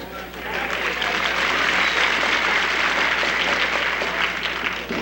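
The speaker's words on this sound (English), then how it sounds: "Yes, sir, the crowd likes this one." A wrestling crowd at an SICW All-Star Wrestling match applauds steadily, a dense sustained wash of clapping with an announcer's voice faintly underneath.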